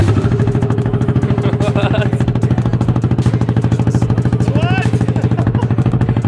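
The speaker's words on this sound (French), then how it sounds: "Ah, petit coup de gaz." A Yamaha XT660X motorcycle engine runs close by with a fast, even, pulsing beat and a mechanical clatter, holding steady throughout with no clear rise in pitch.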